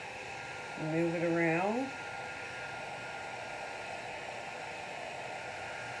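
Heat gun blowing a steady airy hiss over resin pigment, continuous and close, with a person speaking briefly over it.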